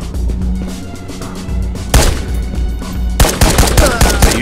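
Gunfire in a PC looting shooter, sharp close shots crackling in quick bursts over a low steady game ambience, with a heavy volley at about two seconds and another run of rapid shots near the end.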